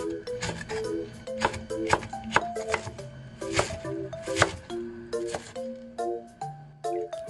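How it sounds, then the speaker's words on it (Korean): A knife chops vegetables into large, thick chunks on a cutting board, giving a rhythmic series of sharp, close knocks with short pauses between bursts. "야채는 큼직하고 두툼하게 썰어줍니다"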